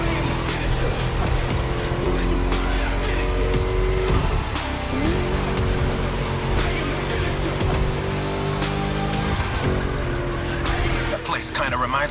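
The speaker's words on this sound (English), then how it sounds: "Just listen to that V8, like a chonky, down-tuned guitar riff." A V8 race car in The Crew Motorfest video game roars continuously at high revs with tire squeal on the track, loud and sustained, with a pitch shift partway through as it shifts or corners.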